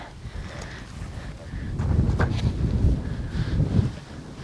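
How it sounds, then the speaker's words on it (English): Gusty wind blowing outdoors on the water during a bass fishing outing, a steady low roar that swells louder midway through and stays close and buffeting on the microphone. "That wind's picking up now."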